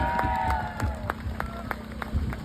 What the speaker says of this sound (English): can everybody in the audience either clap their hands or cheer as loud as possible for 2 bike riders